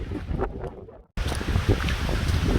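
Gusty wind on Dartmoor roars against the microphone, cutting out briefly for a moment of near silence before the low rushing resumes.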